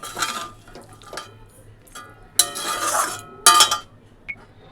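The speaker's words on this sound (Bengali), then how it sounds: "এবারে আমি বাসন মেজে নেবো" Dishes, pots and pans clink and clatter in short bursts during washing, with scraping and metallic knocks between quieter pauses.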